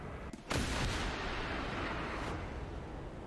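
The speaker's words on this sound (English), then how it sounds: "So you can fire these missiles, both of the missiles." Missiles launch in War Thunder: a sharp crack followed by a loud, sustained roaring rush of rocket exhaust that fills the mix for a few seconds before tapering off.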